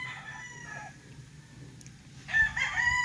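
A rooster at a gamefowl farm crows once near the end, a bright rising call over faint outdoor background noise, with other distant bird sounds earlier.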